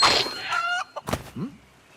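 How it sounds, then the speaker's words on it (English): A chicken in the animated film Moana clucks and squawks in a few loud, close, sharp bursts that end in a short warbling cluck. "The chicken lives."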